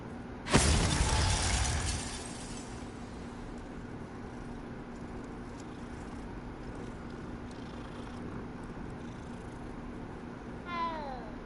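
A cat in the Hogwarts Legacy video game lets out a short meow near the start, with a faint brief mew again near the end over a steady low game ambience.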